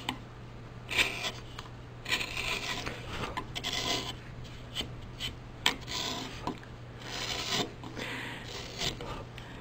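Steady scraping and rasping of a hand tool smoothing a carved wooden spoon, in short repeated strokes with brief pauses, close up, with no talking.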